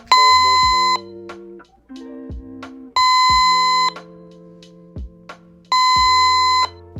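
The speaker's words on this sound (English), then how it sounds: "the monitor will beep intermittently" A cordless three-channel monitor with a low battery gives repeated electronic beeping tones in intermittent bursts, loud and close, with short pauses between them.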